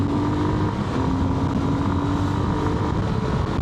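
A 200cc enduro motorcycle being ridden, its engine a loud steady drone mixed with rushing wind noise at the microphone, continuous and close throughout.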